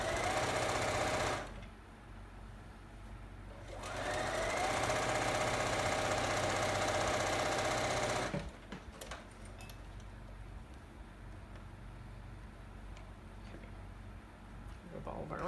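A sewing machine runs close and loud as it topstitches a fabric mask, in a short burst and then a longer stretch of stitching, separated by quieter pauses.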